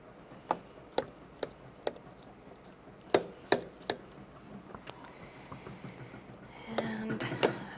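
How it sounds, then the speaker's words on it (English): A knife slices through a freshly baked gluten-free vegan lasagna topped with parsley, giving a series of sharp, distinct cuts at a steady pace, close up. Softer clattering and scraping follow near the end. "I like to cut it like a pizza, and that's what I'm going to do right now"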